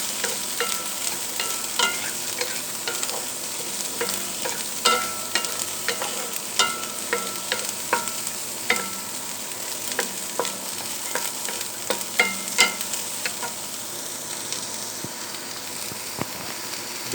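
Capsicum, peas and cauliflower lightly frying in a pan, a soft even sizzle with frequent sharp clicks and scrapes of a spoon stirring, close and without speech.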